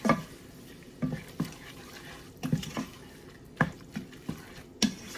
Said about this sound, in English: we're going to mix that up nicely